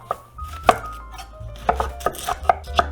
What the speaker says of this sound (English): Got our 3 onions nice and sliced up on